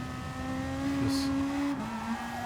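A race car engine in the racing game GT Sport climbs in pitch under acceleration, then drops sharply at a gear change and starts rising again, loud and sustained.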